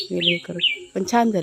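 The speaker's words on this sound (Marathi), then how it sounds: "पक्षी बघा ओरडत आहेत हां पक्षी इथे भरपूर असतात आपल्या केळीच्या बागेमध्ये" Birds chirp in short, bright bursts close by in a banana plantation, mixed with a person talking over them.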